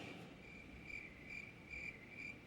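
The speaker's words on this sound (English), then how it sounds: "Nothing but crickets?" A cricket chirps in short, even pulses, close and quiet over a faint hiss, the rhythm holding steady with no one talking.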